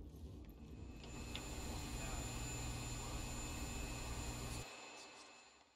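Loud engine room machinery in Hitman 2, a heavy steady mechanical drone with low rumble and faint high whine, constant throughout before dropping away near the end.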